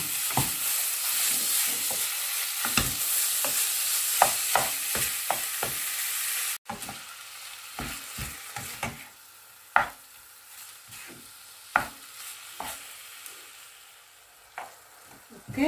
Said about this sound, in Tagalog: we will saute the minced pork till become brown